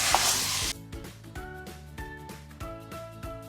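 Hot Italian sausage browning in a pan, a loud burst of sizzle at first that drops to a softer frying hiss, broken by repeated knocks of the meat being mashed and stirred.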